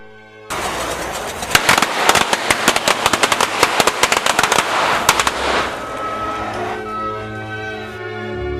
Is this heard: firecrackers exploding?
yes